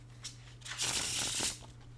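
Playing cards riffled through an overhand shuffle, a close, dry burst of papery flutter that swells for under a second and fades, with brief soft card taps before and after and no talking.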